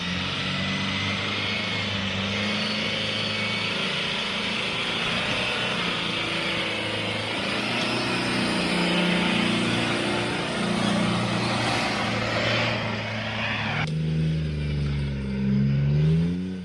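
Engine of a manual Toyota Hilux labours and revs as the 4x4 reverses and drives over a tree root on an offroad track near Coffs Harbour, a steady close rumble rising and falling, ending with a deeper surge.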